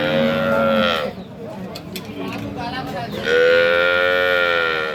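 Dairy cow or calf at a cattle market, two long, loud, tonal moos close by, separated by a short gap with market noise and a few metallic clatters.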